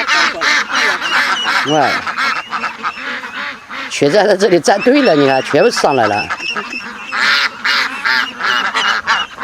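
Ducks and geese honk and quack in a loud, busy flock, with bursts of raucous calls rising over near, continuous talking.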